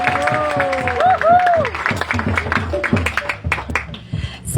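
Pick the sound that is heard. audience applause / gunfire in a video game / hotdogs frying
audience applause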